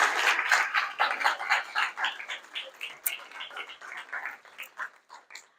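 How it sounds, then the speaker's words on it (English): An audience claps in a round of applause for volunteers at a college podcast panel, a dense patter of hands that starts strong and gradually thins out and fades. "can we please have a round of applause for our first set of volunteers?"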